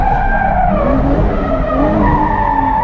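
A rental drift car slides at a steep angle, its tires squealing loudly and continuously with a wavering pitch over the engine drone.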